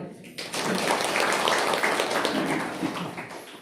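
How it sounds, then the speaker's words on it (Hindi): A group of listeners at a spiritual discourse claps together in a dense, steady burst of applause that swells quickly and holds for a few seconds before fading, with no talking over it. "ताली बजाओ"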